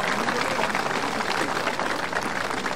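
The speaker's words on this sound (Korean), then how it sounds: "여러분과 함께 축하의 박수를 보내주고 싶습니다" A crowd claps in celebration at the inauguration ceremony of the 36th governor of Chungcheongbuk-do, a dense, continuous roar of applause at a steady level throughout with no pauses.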